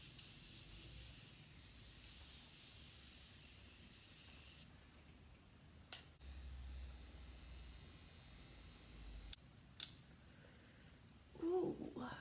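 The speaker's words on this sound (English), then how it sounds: "I am still going to spray my face with the Morphe Continuous Setting Mist" Morphe Continuous Setting Mist sprayed onto a face: a close, sustained airy hiss for several seconds, then quieter rustling, a couple of short clicks and faint movement.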